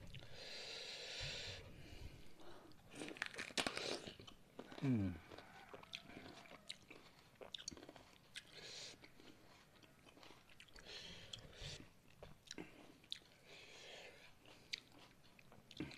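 Close, quiet crunching and biting into rujak of pepino, gotu kola leaves, cucumber and carrot, with soft chewing, breaths and snorts between bites and some speech mixed in.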